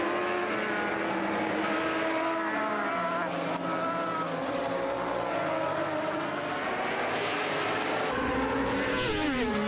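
Racing motorcycles roaring around the track at the 102nd Loudon Classic, a dense, continuous wash of several engines at high revs with shifting pitch as they pass along the front straight, loud throughout with no talk over it.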